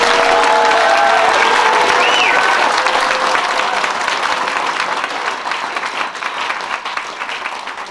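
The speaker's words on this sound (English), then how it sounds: "I appreciate the expression of applause" At a township meeting on a proposed Chinese plant, an audience bursts into loud applause and cheering, a thick continuous roar of clapping with shouts that slowly fades over several seconds.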